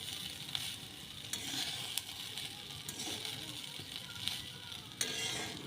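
Fried rice sizzling in a hot pan, with a steady frying crackle and occasional sharp scrapes and clinks of a spatula as it is stirred, close and moderately loud, no talking.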